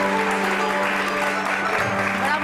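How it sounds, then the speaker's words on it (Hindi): Moderate, fairly quiet applause from a TV entertainment show's studio audience, a continuous patter of hands over a steady sustained musical tone underneath. "तालियां होनी चाहिए इस बात पर।"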